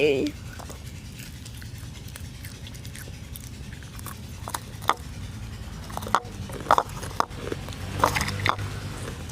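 A snack is bitten and chewed in several crisp crunches and moist chewing sounds, close up, growing more distinct toward the end, over a steady low background hum with faint voices.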